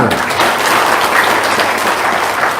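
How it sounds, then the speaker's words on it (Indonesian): Dense, steady applause from a seminar audience fills the whole stretch, loud and close with no talk over it. "Ya, tepuk tangan ya."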